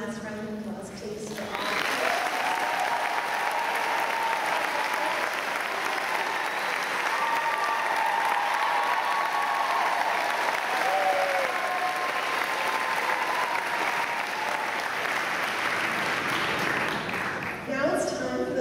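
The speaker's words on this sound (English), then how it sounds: "Can we have one last round of applause," A large graduation convocation audience at the University of Georgia School of Social Work applauds at length, a loud sustained roar of clapping with faint voices and crowd noise mixed in, fading at the end.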